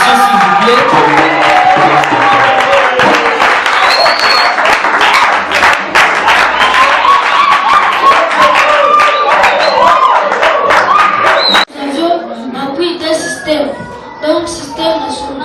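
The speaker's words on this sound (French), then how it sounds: "Sous vos acclamations s'il vous plaît." A crowd at a training session claps and cheers loudly for a candidate named Moïse, a dense, sustained patter of hands mixed with shouts for about eleven seconds, then cutting off abruptly as a speaker talks.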